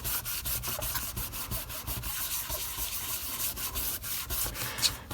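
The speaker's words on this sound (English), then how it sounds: "just really press that down to transfer that embossing ink" Cardstock pressed and rubbed firmly over embossing ink on a craft tag, giving a steady, close scratchy rubbing with repeated short strokes throughout and no talking.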